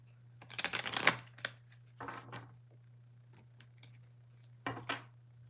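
An Everyday Tarot deck is shuffled close by in several quick riffling bursts separated by short pauses. A steady low hum runs underneath, and no one speaks.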